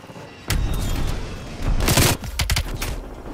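An aircraft strafe run in Call of Duty Cold War tears in suddenly as a loud, dense barrage of rapid fire and heavy booms, surging and pulsing for several seconds.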